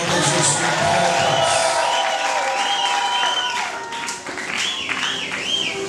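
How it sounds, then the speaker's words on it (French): A church congregation at a Sunday service applauds steadily, with dense clapping mixed with voices, cheering and high ululating calls over about six seconds. "Acclame pour le nom de Jésus."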